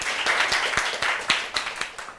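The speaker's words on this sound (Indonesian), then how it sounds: "tepuk tangan untuk Sarah" A live game-show audience claps for a contestant named Sarah, a short burst of mixed applause with distinct sharp claps standing out, moderately loud and close, fading slightly toward the end.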